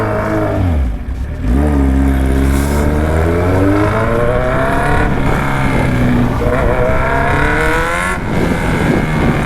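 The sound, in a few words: vehicle with loud exhaust revving, rear tyre slipping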